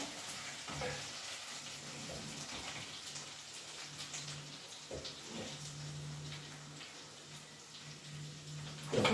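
Steady frying sizzle of onions in a pan, fairly quiet and continuous, with a low hum in the background and occasional clicks.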